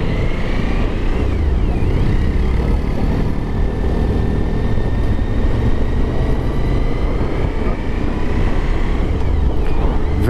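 A 2023 Suzuki V-Strom 1050 motorcycle on the move, a steady loud engine drone with wind rush and rising and falling tones as it shifts gears through the ride.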